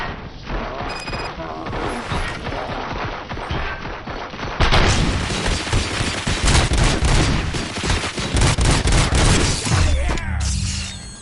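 Gunfire in the Robocop: Rogue City video game: after a quieter opening, heavy sustained automatic fire and crashing impacts erupt, loud and dense for several seconds before tapering off at the end.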